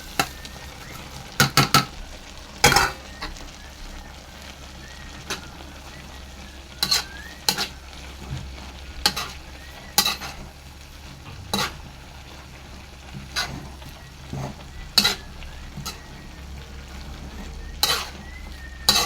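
Patani lima beans and their leaves stir-fried in a pan, with a steady low sizzle broken by repeated sharp scrapes and clacks of a utensil against the pan, close and moderately loud, no talking.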